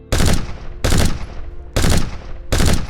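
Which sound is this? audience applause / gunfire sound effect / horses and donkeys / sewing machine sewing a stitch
gunfire sound effect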